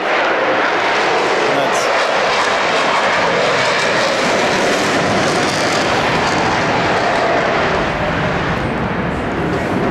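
An F-35 fighter jet at the Oshkosh airshow makes a loud, continuous roar that holds steady for the whole stretch, with voices talking over it.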